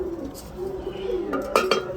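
Two domestic pigeons coo close by in low, soft, rounded calls that run steadily through the moment, with a couple of brief clattering knocks near the end.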